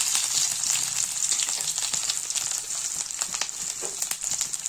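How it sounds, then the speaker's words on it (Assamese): Garlic and dried red chilli sizzle steadily in hot ghee, a dense, close crackling hiss with scattered sharp pops throughout and no voices. "লৈ পেলাই এইখিনি ঘিতে দিম"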